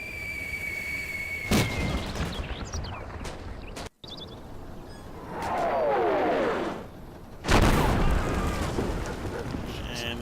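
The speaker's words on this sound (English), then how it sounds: "there's those harassing heavy mortar fire coming in again" Heavy mortar fire in the World War II Normandy game Combat Mission Battle for Normandy: two loud, sharp blasts with rumbling tails and a descending whistle of an incoming shell between them, with a voice talking over it.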